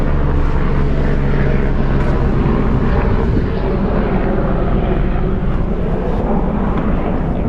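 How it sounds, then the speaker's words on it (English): Airplanes passing low overhead along a flight route above a nature slough near Chicago, a continuous loud rumbling engine drone that fills the whole stretch with no talking. "5 planes just flew right over me, like right in a row"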